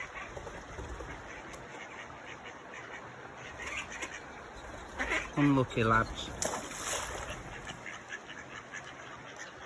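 Quacking ducks, including ducklings, call in short bursts over soft outdoor ambience at a reservoir, with someone talking briefly nearby.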